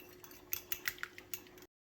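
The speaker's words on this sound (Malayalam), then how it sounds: "നല്ലവണ്ണം ഒന്ന് മുട്ട ഇതേപോലെ ഒന്ന് കലക്കിയെടുക്കുക." Eggs whisked in a bowl with a utensil, a quick run of faint clinking taps in an uneven rhythm, close and soft, with no talking.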